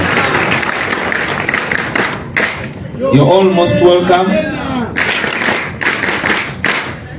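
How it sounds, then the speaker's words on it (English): Applause from an awards audience for a young woman recognised at a graduation ceremony, dense clapping filling the hall on either side of a short stretch of amplified speech in the middle. "Please give her another applause for her great"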